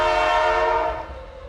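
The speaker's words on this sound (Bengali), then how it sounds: "আচমকা ট্রেনটি থেমে গেল।" A train horn blares in a short, loud sustained tone that fades out within about a second, as a sudden-stop cue in a horror cartoon.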